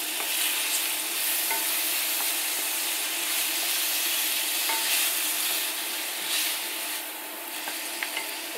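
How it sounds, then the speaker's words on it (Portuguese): Shrimp frying in a pan, a steady close sizzle with scraping and stirring strokes of a utensil throughout, no one talking. "Então vou deitar o camarão."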